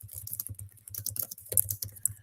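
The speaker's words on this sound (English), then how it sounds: "I'm typing these all in the chat because of our tech issue." Rapid, light clicking of fingers typing on a computer keyboard, close and fairly quiet, with an uneven rhythm of keystrokes and no talking.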